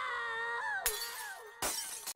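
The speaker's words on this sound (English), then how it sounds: "I love the kind of glass clinking together" Glass from the Adventure Time cartoon clinks in a ringing, bell-like run of tones, then two sharp shattering crashes burst in, each followed by tinkling shards settling.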